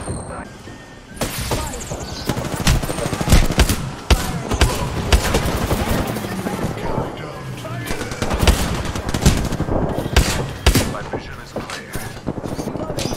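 Gunfire in a video game: rapid bursts of loud, sharp shots and automatic fire crack over a noisy mix, with players talking and shouting over the action throughout.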